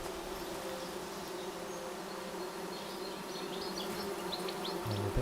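Steady, loud buzzing of bees in the forest survival game Among Trees, a continuous droning hum with faint higher insect chirps, no talking.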